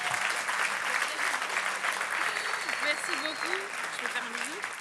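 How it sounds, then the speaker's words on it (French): An audience at a church gathering breaks into sustained, dense applause that stays steady and fairly loud throughout, with a voice speaking faintly beneath the clapping. "On peut l'applaudir bien fort."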